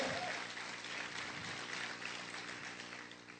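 A church congregation claps loudly and steadily for the Lord, a dense, continuous wash of applause filling the hall with no pauses, fairly distant and even throughout.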